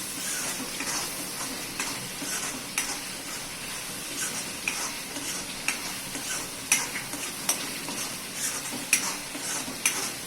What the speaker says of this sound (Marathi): पाच मिनटं कलसवून घ्यायचं तेल सुटेपर्यंत